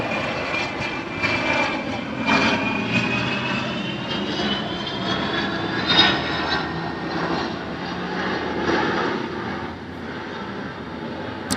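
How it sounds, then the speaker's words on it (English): An airplane passes overhead, its broad engine roar holding steady and loud for the whole stretch with a rising whine, then easing slightly toward the end, heard alone without talk. "a plane flew by"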